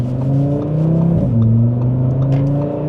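An Audi RS3 engine revs loud and throaty while driving, a steady close drone rising and dropping in pitch as it climbs through the revs, with no talking.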